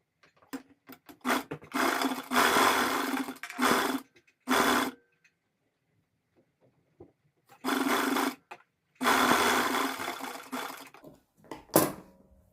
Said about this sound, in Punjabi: ਹੁਣ ਆਪਾਂ ਮਸ਼ੀਨ ਤੇ ਦੋ ਸਲਾਈਆਂ ਲਾ ਕੇ ਲੈ ਕੇ ਆਵਾਂਗੇ